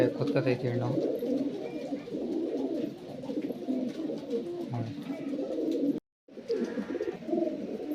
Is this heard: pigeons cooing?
yes